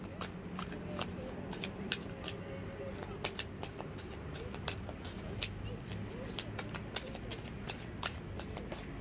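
Tarot cards being shuffled by hand, a steady run of crisp riffling snaps and flutters close up, with no talk over them.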